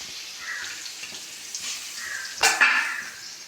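Sliced onion sizzles in hot coconut oil as the base for a beef dish, a steady soft hiss broken by one sharp clatter of stirring near the end.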